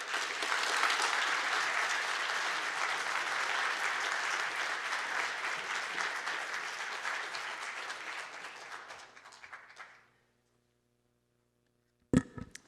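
A live audience at a public talks event on opioids applauds its speakers, a loud, sustained ovation of many clapping hands that fades out after about ten seconds, followed by silence and a brief thump.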